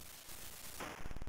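A ship fires its guns in the Apple II game Zaxxon, played with a small flight stick: a short burst of rapid electronic shots at the end of a hissy noise bed.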